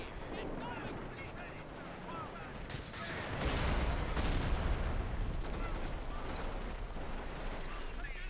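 Mortar and gunfire from a modern-warfare battle in Company of Heroes, with a steady, dense wash of combat noise that swells into a heavier rumble of impacts midway, while a voice talks over it.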